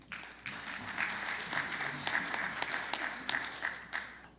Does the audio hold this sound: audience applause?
yes